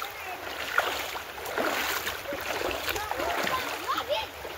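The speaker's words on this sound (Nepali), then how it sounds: "अब म यहाँ खोला क्रस गरेर जाँदैछु" Steady splashing and sloshing as someone wades across a shallow, slightly muddy river, close by and continuous with small surges of churned water.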